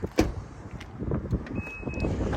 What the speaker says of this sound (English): Rear power liftgate.